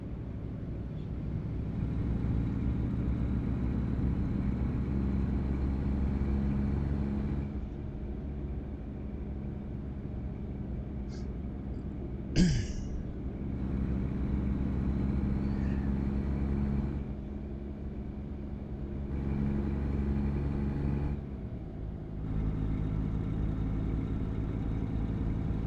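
A truck engine in American Truck Simulator 2 drones at a steady mid-range hum while driving, rising and falling in level over several gear shifts, with a brief sharp click partway through.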